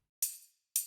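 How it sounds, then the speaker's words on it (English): Tambourine from an 80s Abbey Road studio drum kit, tapped twice: two crisp, close jingle hits with bright metallic shimmer, the first decaying over a few tenths of a second before the second strikes. "Tambourine tap."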